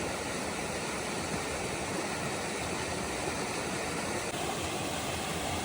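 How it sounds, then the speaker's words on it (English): A small waterfall runs over a flooded hiking trail on the Pinhoti Trail, making a steady, dense rush of falling water that holds evenly throughout with no voices. "Look at that pretty little waterfall that's not usually there."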